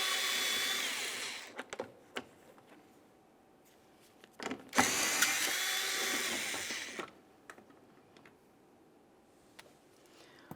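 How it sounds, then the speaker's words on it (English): Power tool with a 7mm bit removing screws on a Buick Enclave's rear bumper area, running in several separate whirring bursts with pauses between them, close and fairly quiet. "Continue on with a 7mm for each of these screws."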